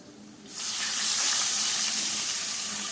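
About four tablespoons of water hit a pan of hot tempering for sev khamani, bursting into a loud, sustained hiss after a brief quiet moment, heard up close with no talking.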